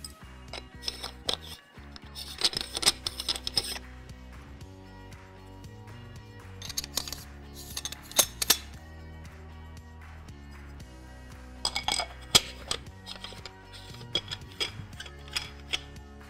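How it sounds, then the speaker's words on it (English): Protective caps being refitted by hand onto an ATOS Q 3D scanner, producing a run of small plastic clicks, taps and scraping handling noises in irregular bursts, close and fairly quiet with pauses between them. "Now I can remount the protective caps."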